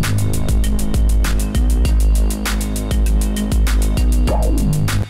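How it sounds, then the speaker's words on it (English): A distorted plucked synth repeats in a dense, loud music mix, its buzzy notes riding over a heavy pulsing low end and regular percussive hits, with no voices. "when I listen to that pluck sound, I hear distortion"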